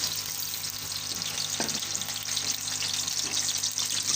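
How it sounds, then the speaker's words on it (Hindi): Onions sizzle and crackle in two cups of hot ghee for chicken biryani, a steady close hiss with occasional stirring scrapes. "2 कप हमने घी लिया, इसको हमने गर्म कर लिया। अब हम इसमें प्याज डालेंगे।"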